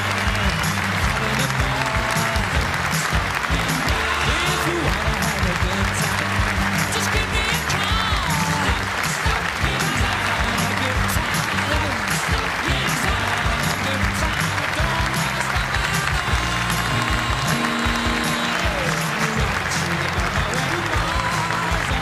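A snooker crowd at a Welsh Open final applauds and cheers Stuart Bingham's walk-on, with loud, dense clapping sustained throughout and no break.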